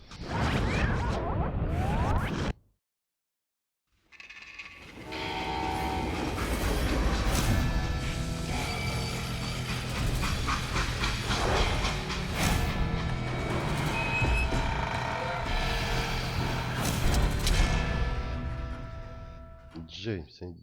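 A train in the video game Call of Juarez: Gunslinger rumbles and clatters with rolling metallic rhythm and whooshes, broken by a brief silence early on, then a continuous loud roar with occasional crashes and a game soundtrack.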